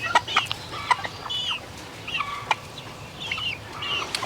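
Chickens and roosters cluck and call in scattered bursts around a free-range flock, a busy mix of sharp, overlapping bird sounds at moderate distance.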